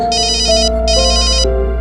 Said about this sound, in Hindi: एक सेकंड, वो फोन आ रहा है।